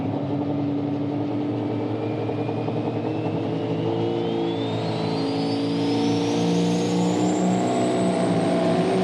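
A Michigan pulling truck, a hired-gun driver aboard, roars continuously under load down a night-time pull track at the Fendt High Stakes event at Dragway 42, its engine note loud and steady and climbing in pitch as it goes.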